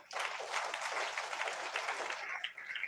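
Congregation at a Sunday church meeting clapping together, a loud, dense burst of applause that stays steady and then thins out toward the end.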